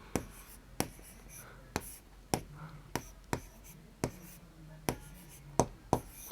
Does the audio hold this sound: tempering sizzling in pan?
no